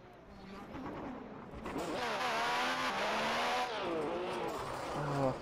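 A race car engine in an onboard view from Ayrton Senna's car at the 1988 Spanish Grand Prix revs hard, its pitch sweeping up and down through gear changes, loud and steady.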